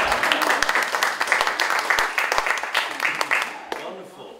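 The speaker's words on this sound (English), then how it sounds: "Round of applause for her." Enthusiastic audience applause at a friendship concert, a dense crackle of many hands with sharper individual claps, steady for several seconds before fading out near the end, with some voices mixed in.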